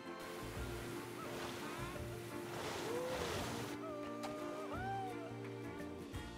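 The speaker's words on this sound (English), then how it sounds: "Next we have a body slide, which is a simple water slide with a high angle slopes for guests to enjoy." A steep water body slide ride called Splashdown in Planet Coaster 2, heard as a continuous rushing, surf-like wash of water with faint tonal blips over it, steady and fairly loud throughout.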